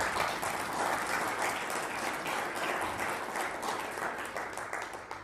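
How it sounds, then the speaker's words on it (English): A room of guests at an anniversary gala dinner breaks into warm applause, steady massed clapping from many hands that holds level, then slightly fades toward the end, heard from a modest distance. "you deserve a round of applause for that."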